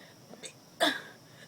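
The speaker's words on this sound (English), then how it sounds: "I'm going to be singing the alphabet. Burping style." A person burps a letter of the alphabet as a single short, fairly loud belch-like vocal burst, preceded by a faint softer sound.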